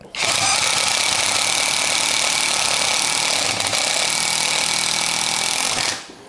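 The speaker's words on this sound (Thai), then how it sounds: "เนี่ยผมลงน้ำหนักกดลงไปนะ เนี่ยมันเริ่มกระแทกนะครับ" A MASARU SCDI-145 cordless impact driver hammers while drilling into steel under heavy hand pressure, a loud, harsh, rapid rattling that runs continuously and close for several seconds before cutting off.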